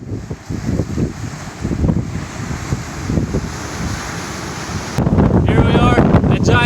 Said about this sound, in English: It's cool, but it's so freaking windy. I can't talk.